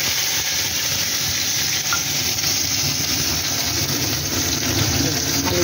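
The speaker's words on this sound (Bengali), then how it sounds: "আমি এবার জিরে ফোড়ন দিচ্ছি অল্প পরিমাণ" Cumin seeds tempering in a small amount of hot oil give a steady, even sizzle that runs unbroken, with faint background hum and no clear speech.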